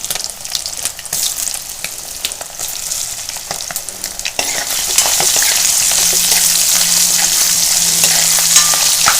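Baby potatoes with chili powder fry and get tossed in a pan, a steady loud sizzle with scraping stirs that intensifies halfway through, no talking.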